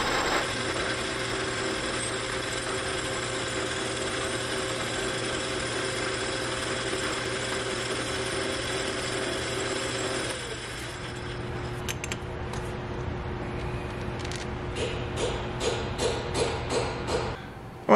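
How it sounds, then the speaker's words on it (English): A metal lathe opens up a part to improve coolant flow: a steady whirring machine drone runs for about ten seconds, then winds down into scattered clicks and clanks of tool handling. "I'm going to put this in the lathe for a minute."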